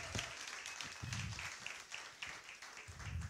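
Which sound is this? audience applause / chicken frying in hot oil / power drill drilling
audience applause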